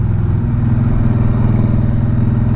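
Indian Scout motorcycle cruising on a shakedown run on freshly fitted tires, its engine a steady, close, continuous low rumble with no talk and little change in pace.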